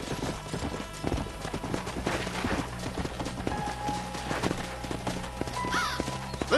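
Horse hooves clip-clop in a steady walking rhythm in the Western video game Red Dead Redemption, close and clear over a low background score, with a faint whinny near the end.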